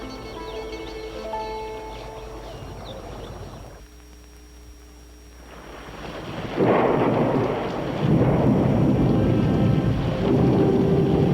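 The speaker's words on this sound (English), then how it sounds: "a sudden summer storm forced the wild animals to seek shelter in the forest" A sudden summer storm in a Russian forest, with a deep rolling thunder rumble that fades, then heavy rain and wind rising to a loud, continuous roar.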